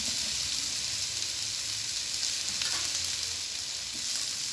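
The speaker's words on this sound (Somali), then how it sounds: "waxaan ku darsanayaa xabadii oo karootada ahayd aan soo jarjaray" Chopped carrots sizzle in a frying pan during breakfast cooking, a close, continuous hissing crackle with faint stirring scrapes and no talk.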